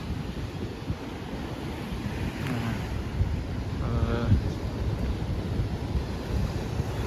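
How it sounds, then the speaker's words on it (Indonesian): Surf washing ashore at Parangdowo beach on the south coast of Java, where offshore coral reef breaks the swell so the waves arrive gentle; a steady, moderate wash with wind noise throughout and no speech. "di pantai ini ombaknya nggak begitu keras karena ombaknya udah tertahan duluan sama batu karang"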